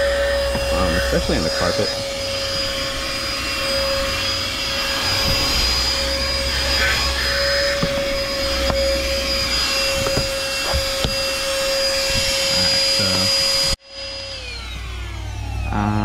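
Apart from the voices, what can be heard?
Chemical Guys corded handheld DetailVac vacuum cleaner running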